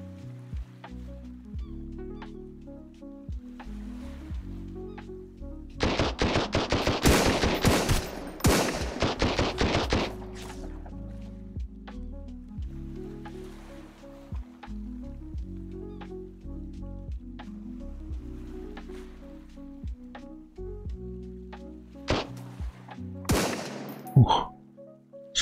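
Gunfire in the survival video game Sunkenland during an outpost assault: a dense rapid burst of shots in the middle, then scattered single cracks and a final short burst, over a low droning game background.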